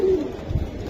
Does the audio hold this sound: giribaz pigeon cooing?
yes